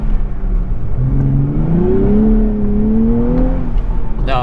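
A Nissan Z sports car with about 400 horsepower accelerates up a steep city hill, its engine note rising steadily and loud over several seconds, heard from close by inside the car.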